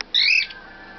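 A pet bird gives one sharp, loud squawk up close, a brief shrill burst with a short fading tail and no talk around it.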